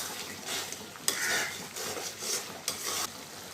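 Masala being stirred and fried in a pan for jackfruit curry, with a spoon scraping and knocking against the pot in several distinct strokes over a steady background sizzle, close and moderately loud.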